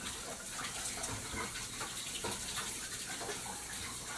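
Hands being washed under a running tap, a steady close rush of water splashing in a sink throughout, with no talking.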